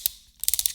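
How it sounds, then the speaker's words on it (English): The head of a Nissin i40 camera flash being rotated makes a quick run of sharp, loud mechanical clicks, one early tick, a short pause, then a rapid ratcheting burst of about six clicks close to the microphone. "The other thing which I did find irritating about this flash was just how noisy it is."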